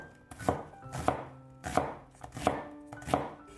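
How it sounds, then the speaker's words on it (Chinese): A knife dices half an onion into small cubes on a cutting board, making five or six firm, close thuds with a hollow board ring, evenly spaced roughly every two-thirds of a second. "再准备半个洋葱，先给它切成薄片， 再改刀切成小丁"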